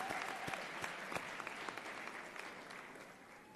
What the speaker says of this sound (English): Another round of applause for this group of Tigers.